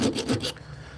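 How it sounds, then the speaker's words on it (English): Short strokes of sawing or rasping against wood, three quick scraping passes in about half a second, close and dry, then a quiet tail. "Little bit of sawing action"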